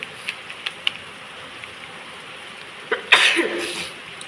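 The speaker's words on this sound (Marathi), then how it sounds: "शिंका येते आहेत थांबत होते" A few faint clicks and small taps, then one loud, sharp sneeze from a person with a cold, bursting out near the end with a brief trailing breath.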